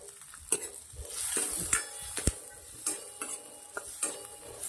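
Capsicum and onion sauté in a pan with ginger, garlic and chillies, giving a soft continuous sizzle broken by repeated scraping and clinking stirs of a utensil against the pan, close and unaccompanied by speech.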